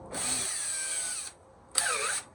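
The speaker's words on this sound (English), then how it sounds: "So I need drill" A Makita cordless drill whirs in a high-pitched burst for about a second, pauses briefly, then spins up again for a shorter second burst.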